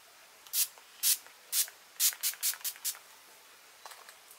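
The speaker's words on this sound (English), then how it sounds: "So I'm just going to be using a setting spray," Several short, sharp hissing spritzes from a pump bottle of makeup setting spray, close by, in an irregular rhythm with a quick burst of three or four near the end.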